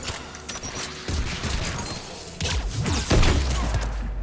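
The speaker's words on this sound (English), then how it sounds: "Affirmative! AA guns ahead of us." Anti-aircraft guns firing in the Mass Effect video game, a dense fusillade of rapid bursts and booming impacts that grows heavier and louder toward the end, with no voices over it.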